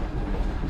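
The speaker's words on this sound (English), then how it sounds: "The Caledonian Sleeper is an overnight train from London to Inverness" Caledonian Sleeper overnight train from London to Inverness running on rails, a steady close rumble with dense low-end roar and no speech.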